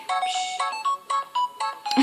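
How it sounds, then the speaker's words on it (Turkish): A phone notification tone plays as a bright, chiming electronic melody of repeated short beeps in a quick rhythm, lasting about two seconds and heard on its own. "Bu arada bana 3 bildirim gelmiş."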